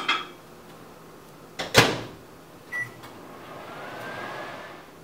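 A microwave oven heats milk for lattes in a home kitchen, its steady hum running throughout, with a sharp door or cupboard knock near the middle and a brief electronic tone shortly after.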